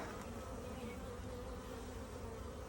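Honey bees drone in a nucleus hive box, a soft, even, continuous buzz of many insects with no voices.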